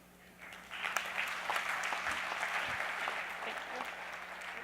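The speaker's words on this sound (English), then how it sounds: "let's give our analysts one last round of applause" Audience applause at a fintech conference, a dense burst of clapping from a crowd that rises quickly and holds steady, moderately distant in the hall.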